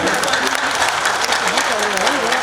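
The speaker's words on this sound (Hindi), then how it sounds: "जोरदार तालियों से इस पावन पल का स्वागत" At a foundation-stone laying ceremony, an audience applauds in a steady, dense burst while a voice speaks over the clapping.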